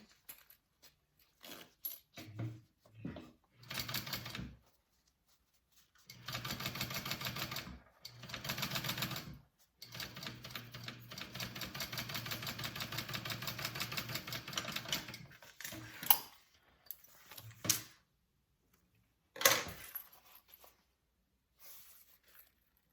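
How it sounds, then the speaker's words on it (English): A sewing machine topstitching along a zipper runs in several short bursts of rapid mechanical stitching, separated by pauses and clicks as the fabric is repositioned, close and fairly quiet with no talking. "It helps the zipper lay flat, and it gives us a nice top stitch on the inside of your zipper"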